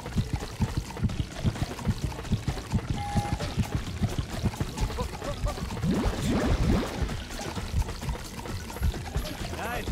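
Liquid pouring in the video game Madagascar Escape 2 Africa, a steady splashing stream with a rising gurgle partway through, set under busy game sounds.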